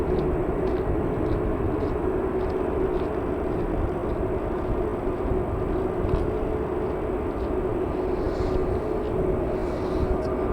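A British Airways Airbus A320 bound for London Heathrow drones steadily at Manchester Airport, a constant mid-distance engine rumble with a faint tonal hum and no voices.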